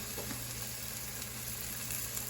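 Onions sautéing in a pan for Indian butter chicken give a steady, fairly faint sizzle that holds evenly throughout, with no talking.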